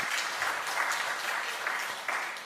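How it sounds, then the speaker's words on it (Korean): A church congregation at a Korean Methodist afternoon service claps in sustained, even applause, many hands together at moderate volume from start to finish. "다시 한번 박수 드리도록 하겠습니다"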